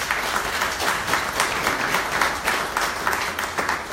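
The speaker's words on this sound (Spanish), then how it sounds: "Quisiera que les diéramos un aplauso al Frente por el Derecho a la Salud y Seguridad Social" Audience applause at a national meeting, a dense, steady wave of many hands clapping that holds evenly throughout, fairly close and with no speech over it.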